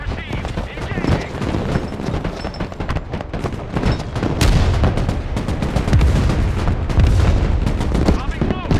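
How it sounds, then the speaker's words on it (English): Booming artillery fire and gunfire from the video game Broken Arrow land in a dense battle mix, with repeated heavy blasts and crackling shots. Voices talk over the combat. "Their artillery fires volley after volley without repositioning."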